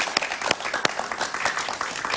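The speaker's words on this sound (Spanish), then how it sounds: "Un aplauso para él, por favor." A studio audience gives a brief round of applause, with scattered sharp claps over a steady bed of clapping that holds at an even level throughout.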